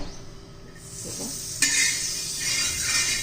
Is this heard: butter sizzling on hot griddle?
yes